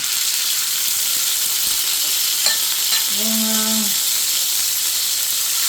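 Constant loud sizzling of chicken and vegetables frying in a pan, with a short tonal whir rising briefly midway over the hiss.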